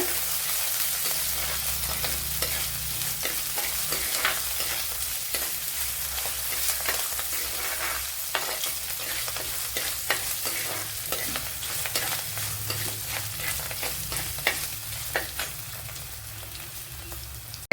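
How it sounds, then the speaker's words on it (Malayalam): Chopped ginger, with garlic and green chillies, sautés in a pan for squid curry, giving a steady dense sizzle with frequent scraping stirs, close and continuous throughout. "ഒരു 1 ടേബിൾ സ്പൂൺ ഇഞ്ചി കൊത്തി അരിഞ്ഞത്, ഇതിനെ ഇനി ഒന്ന് നല്ലപോലെ ഒന്ന് വഴറ്റിയെടുക്കുക."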